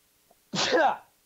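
A single sharp sneeze, close and fairly loud, preceded by a tiny faint sound.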